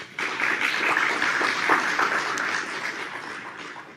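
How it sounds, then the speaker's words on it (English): Keynote event audience applauding the sponsors, a broad burst of clapping that starts abruptly, stays full for a few seconds, then slowly thins. "please join me in giving them a round of applause"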